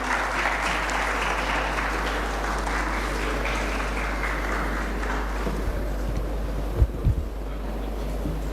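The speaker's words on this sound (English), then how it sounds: "Please join me in welcoming Shri Damodar Rajanarasimha Garu with a huge round of applause" Audience round of applause welcoming Shri Damodar Rajanarasimha, Hon'ble Minister for Health, at a felicitation ceremony; broad, dense clapping that holds evenly over a low steady hum and fades near the end with a few thumps.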